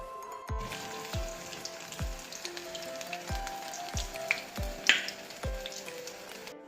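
Oil sizzles and crackles steadily as onion rings fry, with regular soft thumps recurring about every half second and no talking.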